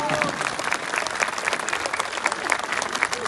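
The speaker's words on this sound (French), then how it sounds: "On peut les applaudir bien fort." An audience at a patriotic rally gathering applauds loudly for organisers and volunteers, a dense, sustained wash of clapping close by, with faint crowd voices mixed in.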